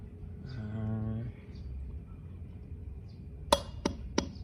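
A hammer strikes a titanium ABS bolt on a motorcycle rear wheel pulsar ring, giving three or four sharp metallic taps near the end after a brief hum, close and fairly loud in a quiet space.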